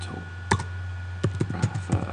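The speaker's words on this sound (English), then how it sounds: "I'm not very good at typing and speaking." Soft keyboard typing, a few scattered key clicks over a steady low hum, fairly quiet and close.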